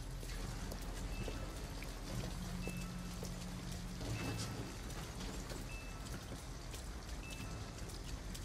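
Steady rain falls in the video game Detroit: Become Human, a dense, even hiss of drops on surfaces that stays constant throughout, with faint patter and no voices over it.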